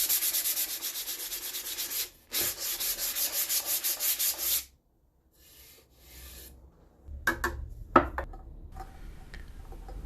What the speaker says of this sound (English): a little bit of sanding using my belt sander